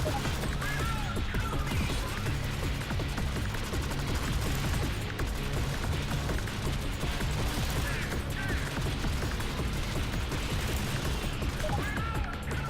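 Dense, continuous gunfire and crashing impacts from a sci-fi top-down shooter game, Alien Swarm: Reactive Drop, loud and unbroken throughout with no clear talk over it.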